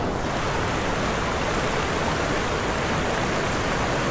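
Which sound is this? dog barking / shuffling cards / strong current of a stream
strong current of a stream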